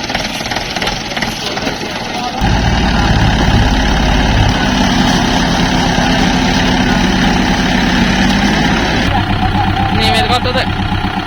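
A Kubota four-wheel-drive tractor stuck deep in mud starts up after a quieter opening and runs with a loud, heavy, rumbling engine drone for several seconds before the tone shifts and eases near the end.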